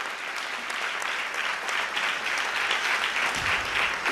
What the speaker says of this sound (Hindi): जोरदार तालियां बजा दे जॉनसन के लिए